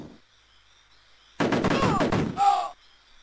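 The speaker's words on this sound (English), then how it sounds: "lob one grenade towards that building" A grenade lobbed at a building in the Amiga video game Cannon Fodder bursts in a sudden loud crunchy explosion followed by a short second blast and gunfire crackle, with a thin background tone before and after.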